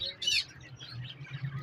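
Caged birds for sale at the Lahore bird market, with a bright chirping burst near the start and softer scattered tweets over a low background murmur.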